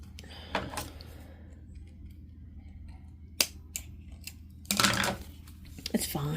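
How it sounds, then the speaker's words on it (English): Scissors snip through a zipper on a sewn bag, a few sharp clicking cuts spread out and one dense burst near the end, close and fairly loud over a quiet room hum. "Oh look, I get to cut the zipper again."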